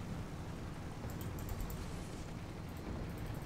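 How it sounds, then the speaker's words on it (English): Game gunfire and explosions from Guns of Icarus make a continuous low rumble with scattered sharp crackles on top. The steady noise sounds moderately close, with no talk. "Oh, they're firing at us."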